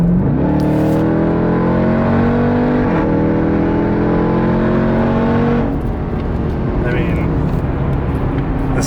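A Jeep Trackhawk engine roars loudly as it accelerates hard down a road, rising pitch through gear shifts near the three- and six-second marks, with the droning engine note filling the whole stretch close up.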